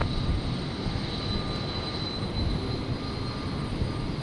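A Virgin Australia jet takes off from runway 01 right at Brisbane Airport on a stormy night, a steady broad roar of engines filling the whole stretch, distant and even without any rise or break.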